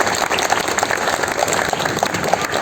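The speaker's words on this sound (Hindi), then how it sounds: "मेरी इस बेटी के लिए सबको एक बार जोरदार तालियां होना चाहिए" An audience at a ceremony honouring Covid warriors breaks into applause: a dense, continuous wash of clapping with some individual sharp claps standing out, steady and fairly loud throughout.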